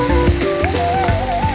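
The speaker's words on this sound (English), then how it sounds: "Now once this sautés, we'll add the spinach." Vegetables sautéing in oil before spinach goes in, a steady close sizzle with a crackling texture under a background tone and occasional soft bumps.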